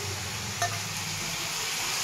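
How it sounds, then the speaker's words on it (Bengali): Ground onions fry in a pan with a steady, close hiss of sizzling oil and a faint stir partway through. "পেঁয়াজ আমি এর মধ্যেই দিয়ে দেবো, তাতে এটার সঙ্গে পেঁয়াজগুলো ভাজা হয়ে যাবে"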